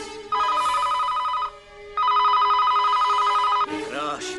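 A telephone rings in two long electronic trills separated by a short gap, loud and close, before a voice briefly cuts in at the end.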